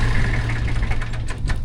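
A tractor engine idles while driving a Mechmaxx SG24 PTO stump grinder, a steady low rumble with a faint rhythmic knock, close and loud without pause.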